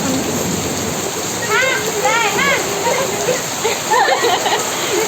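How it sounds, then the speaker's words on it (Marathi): Sudden heavy rain pours down steadily as a dense, close hiss, with voices talking over it throughout. "अचानकच पाऊस आला"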